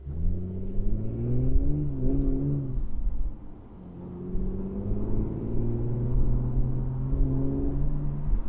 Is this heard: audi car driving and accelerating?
yes